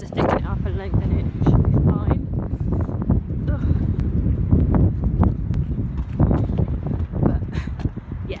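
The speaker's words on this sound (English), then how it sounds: "pretty windy and pretty rainy at the moment" Wind gusts outdoors on a windy, rainy day make a steady, loud broadband rumble throughout, with a person talking over the blustery noise.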